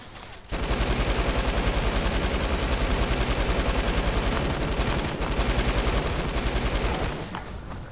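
Fortnite gunfire, a loud, rapid, unbroken stream of shots lasting several seconds before cutting off, with a short pause partway through.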